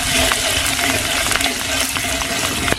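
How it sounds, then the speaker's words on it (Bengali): Whole cumin, dried red chillies, green chillies and onion sputtering in hot mustard oil, a loud, steady, close sizzle with crackling pops and faint stirring scrapes throughout, no voices. "সরিষার তেল তেলের ফোড়ন গোটা জিরা শুকনো লঙ্কা কাঁচা লঙ্কা পেঁয়াজ"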